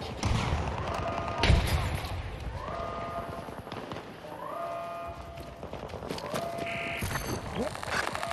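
Gunfire in a video game battle rattles in quick bursts and scattered single shots amid layered combat noise, with short whining tones recurring between volleys, moderately loud and steady throughout.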